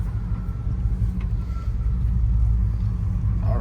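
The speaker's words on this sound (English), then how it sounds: "This is the first actual test drive, guys." A Ford OBS truck on its first test drive gives a steady, loud engine and road rumble that fills the cabin, with wind noise and no talking.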